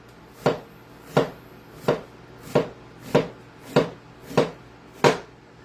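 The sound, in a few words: knife slicing onion thinly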